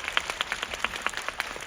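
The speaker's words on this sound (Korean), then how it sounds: "감독님께 박수 한번 부탁드리겠습니다" A cinema audience at a guest-visit screening of 5 Centimeters per Second applauds the director. The clapping is quick and sustained at a moderate distance, with scattered individual claps standing out.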